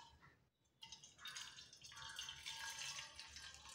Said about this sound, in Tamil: வேற ஒரு பாத்திரத்தில் இந்த தண்ணியை வந்து ஊற்றி வச்சுருங்க